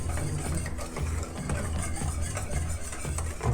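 Granulated sugar being whisked into brownie batter in a bowl, a steady, close scraping and swishing that carries on without a break for a few seconds, with no talk.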